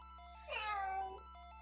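A single drawn-out cat meow from a soundboard, loud and close for about a second against a quiet hum, with no voices over it.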